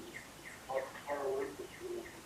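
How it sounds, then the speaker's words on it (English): Faint, repeated high electronic chirps sound at a steady pace during a school district board meeting, heard under a nearby voice speaking. "What's that chirping noise?"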